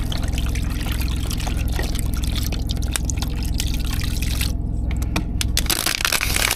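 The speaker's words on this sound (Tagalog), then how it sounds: "Papakulo ako ng tubig." Water pours steadily into a pot to be boiled for eggs at an evening roadside stop, with a continuous trickling stream close by that thins toward the end.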